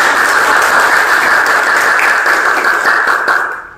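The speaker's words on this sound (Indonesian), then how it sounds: "Oke, berikan aplaus dulu untuk" Sustained applause from a classroom audience for a presenting student group, dense steady clapping throughout that tapers off at the end.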